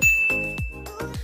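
A notification bell sound effect chimes four times in a steady rhythm, each ding bright and clear with a ringing tail, alone and close.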